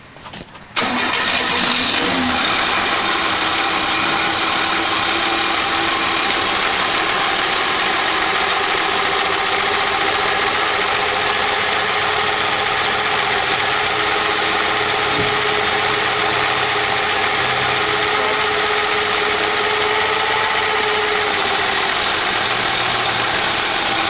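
A car engine running on a water-fuel mix cranks and catches, then settles into a steady, loud idle that runs on evenly for the rest of the stretch.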